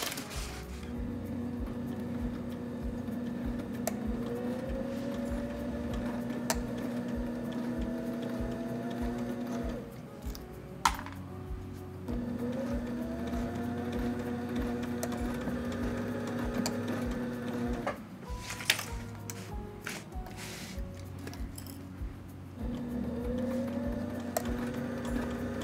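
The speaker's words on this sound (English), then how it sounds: "Now we're gonna sew these folds into place" A sewing machine sews folded hems into place in three long, steady runs of rapid rhythmic ticking and whirring, each stopping briefly before starting again, with no speech.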